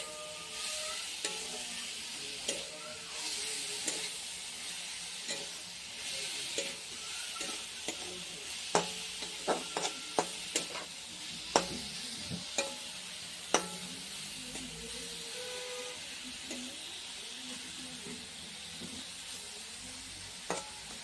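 A spoon stirs amra (hog plum) curry in a pan with repeated scraping clicks and sharp taps over a soft, continuous sizzle, fairly close and with no talk.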